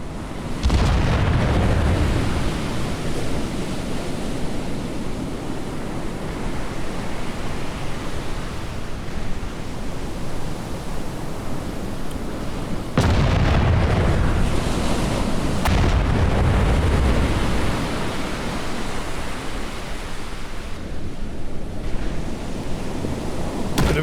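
Naval battle explosions from the MicroProse Battleship Command game, heard as a sustained roaring rumble of broadband noise like surf and wind, with a fresh loud burst midway and no talk over it.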